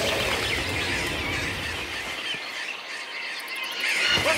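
A large flock of birds outside in a cartoon gives a dense, steady wash of bright chirping and twittering that swells slightly toward the end, with no voices.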